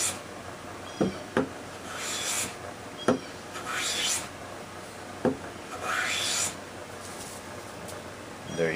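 Millers Falls hand plane taking a shaving along a wood edge, a series of soft scraping rasps and light knocks from the tool, fairly close with quiet gaps between strokes.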